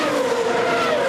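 AutoGP racing cars braking hard into a chicane at Marrakech, a dense loud engine roar with a descending pitch and faint tyre noise, steady throughout the brief moment.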